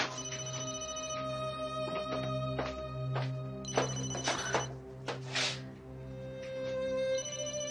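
A phone ringtone plays a repeating electronic melody, clear and close, with no talking.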